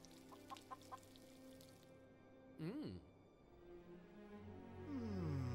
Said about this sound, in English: Most loyal member of the crew, Captain Chicken